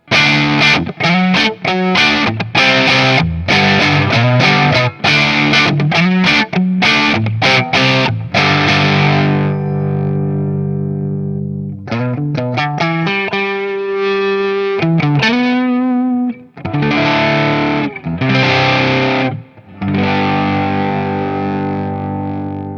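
A glass electric guitar played through its neck pickup with heavy distortion, loud and close. Riffs of rapid chugging chords give way to long sustained notes, with bends and short gaps of silence.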